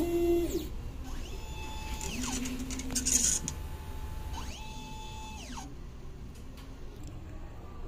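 An inkjet printer runs a nozzle test, its motors whirring in rising and falling tones with short mechanical passes, heard clearly with no talk.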